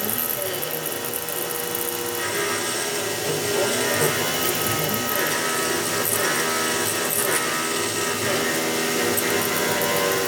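CNC milling machine cutting an RWL34 steel knife blade, a loud steady whine with bright harmonic tones and grinding chatter running continuously, with faint voice underneath.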